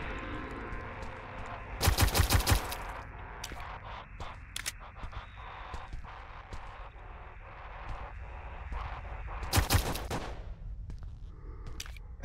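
Bursts of gunfire from a horror video game set in a haunted apartment building: two loud, sharp volleys of rapid shots about eight seconds apart, with quieter scattered clicks and thuds between them and no talk.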